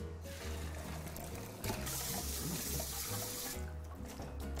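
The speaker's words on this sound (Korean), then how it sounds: "이제 물에 한번 헹궈 보겠습니다" Blanched chicken pieces for a spicy Korean braised chicken stew being rinsed under a running kitchen tap, a steady close rush of water splashing into the sink that continues throughout.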